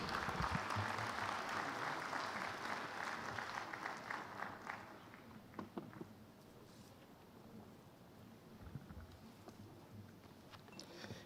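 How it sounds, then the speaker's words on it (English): Conference attendees at an annual professional gathering applaud their president, a sustained round of clapping that starts full and gradually thins out over several seconds into scattered, fading claps, heard from a moderate distance. "A round of applause for our president,"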